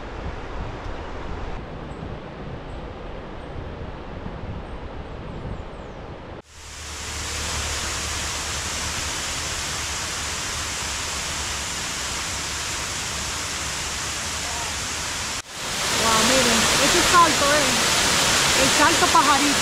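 A river rushes nearby as a steady broadband roar. It drops out sharply twice and returns louder each time.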